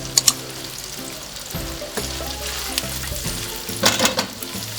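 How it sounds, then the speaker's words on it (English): Chopped onions and yellow scotch bonnet pepper sizzle in a pan for Nigerian fried rice, a soft steady frying hiss broken by a few sharp clinks of a spoon stirring against the pan, with no talking. "I'm adding in all the chopped onions that I have here"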